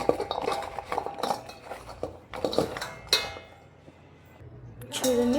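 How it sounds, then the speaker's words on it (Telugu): A spoon scrapes and clinks repeatedly against a bowl while mixing sliced bottle gourd with chili powder and oil, in irregular bursts with a short quieter pause near the end. "వేసుకున్నాక మంచిగా మిక్స్ చేయాలి."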